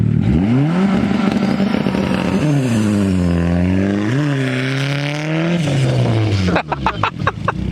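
A turbocharged Honda Civic wagon launching on dirt, its engine held at a loud droning rev that wavers and sags as it bogs down, then breaks into rapid popping and sputtering near the end, close and dominant.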